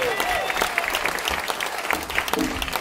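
Audience applause for the singer at a Christmas paranda concert, with steady dense clapping running throughout and some crowd voices and cheers mixed in.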